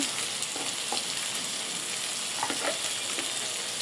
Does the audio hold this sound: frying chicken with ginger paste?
yes